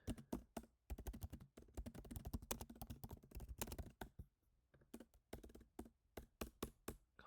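Fingers type rapidly on a computer keyboard during data work, dense bursts of close clicking keys broken by short pauses, no voices.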